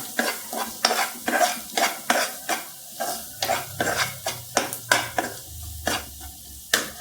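Onion, ginger-garlic paste and masala stirred in a pan for mutton lung fry, giving a steady series of close scraping spoon strokes about twice a second over a soft sizzle, with no talk.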